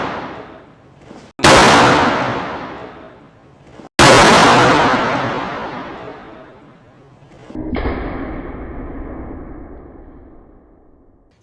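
A car airbag set off indoors in a large room: two sharp, loud explosive bangs about two seconds apart, each ringing out into a long decaying echo, followed by a softer hissing thump.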